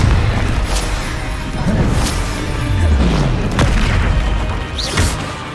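A Confringo blasting spell explodes in Hogwarts Legacy, a loud booming blast with crashing bursts and low rumbling thuds that keep rolling for several seconds.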